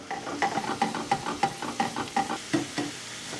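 Hash browns fry in vegetable oil and butter while a spatula scrapes and pats them, giving a steady run of rhythmic scraping taps over a soft, close sizzle.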